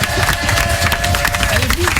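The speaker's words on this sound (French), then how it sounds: "Est-ce qu'on peut l'applaudir très fort," A studio audience applauds and cheers a cover singer on a French radio show, with dense, sustained clapping and crowd noise throughout.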